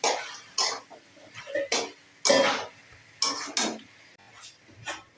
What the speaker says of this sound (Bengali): এবার আমি ঢাকা দিয়ে দিলাম।